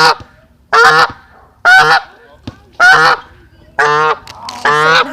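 Pet goose honking up close, a series of about six loud, nasal honks spaced roughly a second apart, with no other sound between them.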